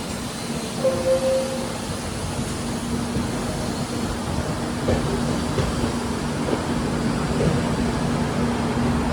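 A passenger train at night runs steadily after leaving platform 4 at Asansol station, heard from inside as a continuous low rumble with faint rail clatter and a hum, with no talking.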